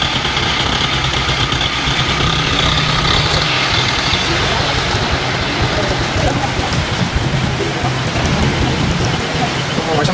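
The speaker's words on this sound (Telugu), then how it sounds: "వర్షం ఎట్లా" Steady rain pours on a busy street during the Ganesh festival, with traffic jammed and a crane lifting idols nearby, loud and continuous throughout, with a truck engine idling underneath and voices mixed in.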